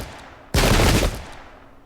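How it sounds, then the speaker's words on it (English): Arquebusiers fire a massed volley in the Pike and Shot video game, a single sudden loud burst of overlapping gunshots that holds for about half a second and then fades into a rumbling tail. "whether or not they can withstand all these arquebusiers firing"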